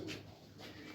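A soft coo from a green-winged pigeon on a rooftop sounds close by over a steady low background hum, brief and unaccompanied by talk.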